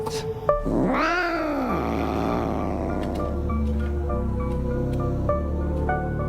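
A loud, drawn-out cat yowl rising and falling in a horror video game based on Junji Ito, followed by eerie tonal game sounds and scattered clicks.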